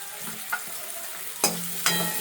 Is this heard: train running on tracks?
no